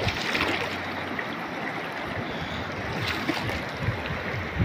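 Flowing water with small waves lapping, a steady close wash of splashing and rushing with occasional louder slaps, continuous throughout.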